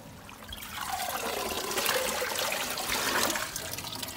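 Water draining through a kitchen strainer while making mint yeast, a soft swelling trickle and pour that rises and then eases off, close and alone.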